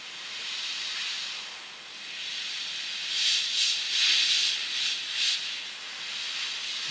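An airbrush sprays a light coat of paint onto a plastic Eduard Spitfire scale model: a steady close hiss of air that rises into several short, stronger bursts near the middle, with no one speaking.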